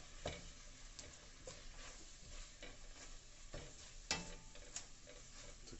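Garlic and peppers simmer in a pan with added water, giving a soft, steady bubbling and sizzle with occasional faint clicks of utensils, heard quietly on its own.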